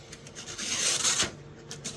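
A restored hacksaw rasps through material in a couple of short, close scraping strokes, soft and brief.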